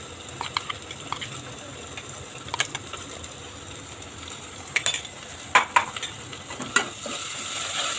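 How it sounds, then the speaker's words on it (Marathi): Green chili and ginger-garlic paste frying in a pan for a pressure-cooker veg pulao, a soft steady sizzle with scattered sharp scrapes and clinks of a spoon against the pan, growing busier toward the end. "आलं लसूणचा कच्चापणा गेला आहे, छान परतून घेतला आहे."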